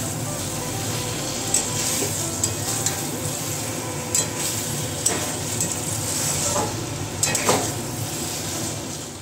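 Masala spice paste fries in a pan with a constant close sizzle, broken by a few sharp scrapes and clinks of the stirring spoon against the pan, with no talking.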